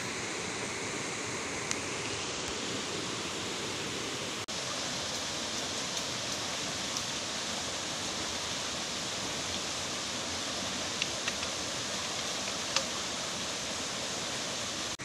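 A natural waterfall on a forest stream where people are fishing, heard as a steady, dense rush of falling water that holds constant for the whole stretch with no talk.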